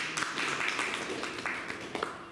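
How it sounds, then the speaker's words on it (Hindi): Audience applause at a Dussehra event where prize positions in a school quiz competition are announced, a steady crowd of clapping hands with scattered sharper individual claps, moderately loud and continuous. "जोरदार तालियां बजाते हैं।"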